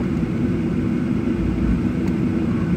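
JAL flight 668 from Oita taxis at Haneda Airport in Tokyo after landing on runway A, heard from inside the cabin as a steady, loud low engine rumble and hum with no talk.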